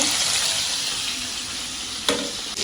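Onion, fish and fish roe frying in a pan give a close, loud, continuous sizzle with stirring scrapes, and one sharp clack near the end.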